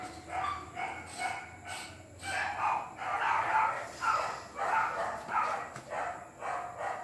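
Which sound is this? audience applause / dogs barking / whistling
dogs barking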